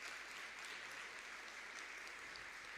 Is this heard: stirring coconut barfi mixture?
no